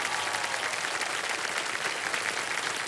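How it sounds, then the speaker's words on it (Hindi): Studio audience on the KBC (Kaun Banega Crorepati) Season 17 quiz show set bursts into loud, steady applause, a dense wash of clapping that holds evenly throughout with no talking over it. "एक बार जोरदार तालियां फिर से बज जाएं।"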